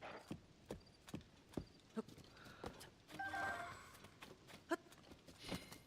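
In Zelda: Tears of the Kingdom, a horse's hooves clop in an uneven rhythm at low volume, with faint game sounds and a brief whinny-like tone mixed in.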